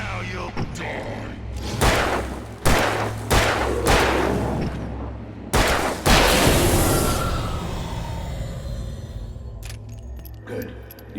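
Gunshots in the video game Alan Wake: several sharp, loud booming reports fired in an uneven sequence, each trailing off into a rumbling echo, followed by quieter scattered metallic clinks.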